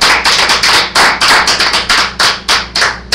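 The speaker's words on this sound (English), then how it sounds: "give your Father a hand clap" An audience at a church gathering claps together in uneven bursts, a dozen or so loud, close claps in a loose rhythm over a few seconds, with no talking.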